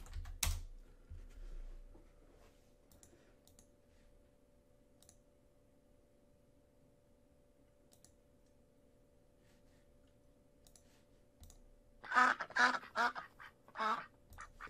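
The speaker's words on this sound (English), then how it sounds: "That's a duck sound." A run of loud duck quacks plays alone near the end, several short bursts in quick succession, after a long stretch of faint hum and scattered keyboard clicks.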